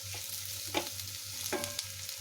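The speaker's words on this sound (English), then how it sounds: "you need to keep on frying, you need to keep on moving the pan stick till it doesn't come golden brown" Onions sizzle steadily in a frying pan while a utensil scrapes and stirs them in a few distinct strokes, close and fairly quiet, with no talking.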